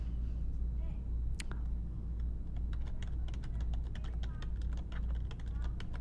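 Rapid keystrokes tapping on a computer keyboard while a name is typed, a steady run of close, crisp clicks over a constant low hum, with no talking.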